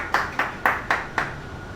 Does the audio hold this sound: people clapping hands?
yes